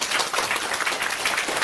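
An audience at a Chinese-language business presentation applauds, a steady, fairly loud patter of many hands clapping together throughout.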